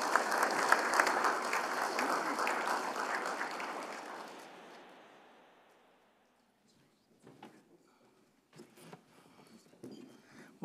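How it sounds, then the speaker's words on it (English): A round of applause for an honoree at a university leadership and service awards ceremony, with steady audience clapping that fades out after a few seconds, followed by quiet room rustle and a few scattered noises. "Let's give another round of applause for Sally."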